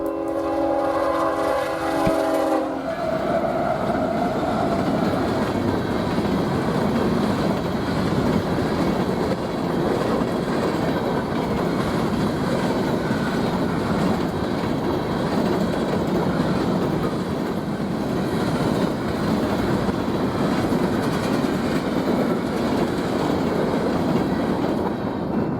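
An empty grain freight train rolls fast downhill at Hillsdale, a brief horn blast opening before a steady, loud rumble of wheels and cars that carries on unbroken, with faint clickety-clack, close by.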